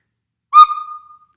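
A single short blow on a whistle sounds alone: a clear, bright tone that starts sharply, holds briefly and tapers off within about a second, with no voices.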